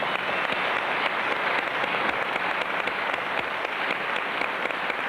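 A studio audience at a French television variety show claps steadily, a dense, even patter of many hands that holds at one level throughout with no voices over it.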